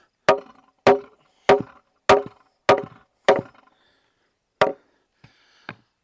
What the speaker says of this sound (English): I'm gonna take the hammer.